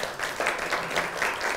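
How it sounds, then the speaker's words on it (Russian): Audience applause at a university discussion club on migrants and schools, a steady wash of many clapping hands, moderately loud and sustained. "давайте поаплодируем этому обстоятельству"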